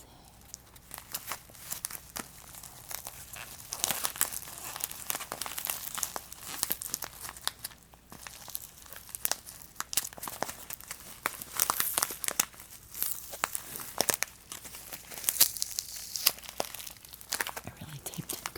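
Thin plastic bag patched with duct tape crinkles and crackles steadily as it is handled close up, a continuous run of dense rustling bursts with no talking.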